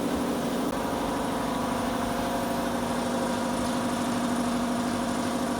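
A 4-cylinder air compressor of 1 to 1.5 horsepower, feeding air to a foundry furnace, drones in a steady mechanical chug at close range, continuous and unchanging throughout with no speech.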